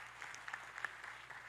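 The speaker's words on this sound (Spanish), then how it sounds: "Un aplauso también a los dos que se animaron a participar." A brief spatter of applause rises from a lecture audience, faint and somewhat distant, with scattered individual claps.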